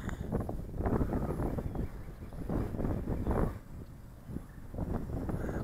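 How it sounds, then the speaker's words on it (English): Outdoor wind buffets the microphone in gusts during a Holy Stone HS720G drone flight test, a rough rumbling roar that swells and fades throughout with no talking. "Boy, that wind's picking up, folks."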